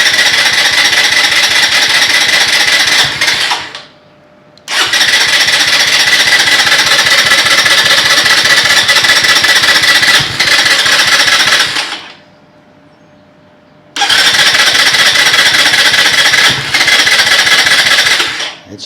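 A brand-new 2023 Venom SS3 KP mini 150 motorbike engine catches and runs loud and steady, cutting out twice into near silence before restarting, with a harsh buzzing rattle throughout.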